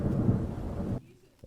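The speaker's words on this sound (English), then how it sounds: "Soon, a thundering and thrashing storm arose." A thunderstorm sound effect in a stage play: loud, dense rumbling roar for about a second, then cutting off abruptly to near quiet with a faint thump.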